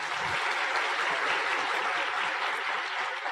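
Audience applause at a motivational business seminar, a dense, steady wash of clapping that holds through the whole stretch without a break.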